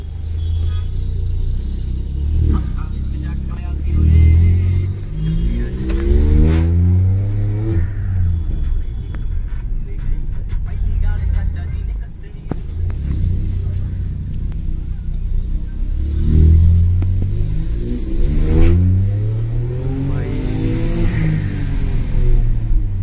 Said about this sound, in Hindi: और ये कार देखो एग्जॉस्ट लगा इसमें भी।